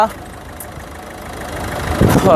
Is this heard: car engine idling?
yes